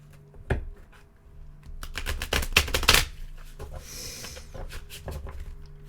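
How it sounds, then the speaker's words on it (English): Playing cards are shuffled nearby in quick riffling bursts of crisp papery snaps, then a brief hiss and a few lighter taps, and no one speaks. "One more shuffle."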